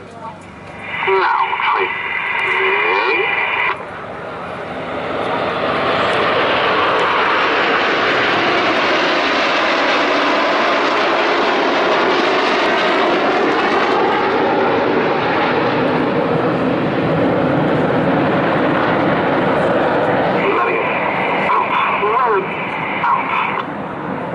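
Red Arrows display jets fly in formation at the Bournemouth Air Festival, a loud, continuous roar that builds and holds overhead. Commentary over a radio-like public address runs underneath.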